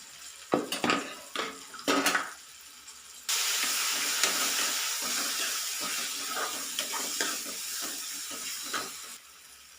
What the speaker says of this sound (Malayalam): ഇതൊന്ന് പച്ചമണം പോകുന്നവരെ ഒന്ന് ഇളക്കി കൊടുക്കാം